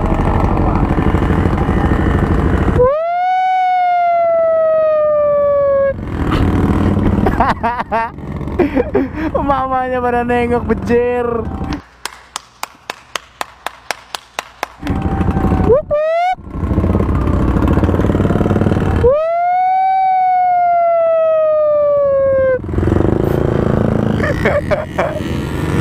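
Sirens wailing in a traffic jam: loud rising and falling electronic tones that start and stop repeatedly, alongside idling engines, a burst of rapid honking chirps, and people talking.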